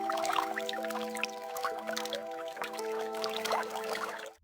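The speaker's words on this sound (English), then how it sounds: "the water is still a bit too loud" AI-generated gentle trickling and dripping water sound effect blends with a steady tonal musical drone, soft and continuous throughout.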